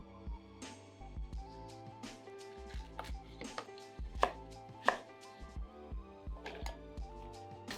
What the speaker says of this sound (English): cut off the ends and dice it medium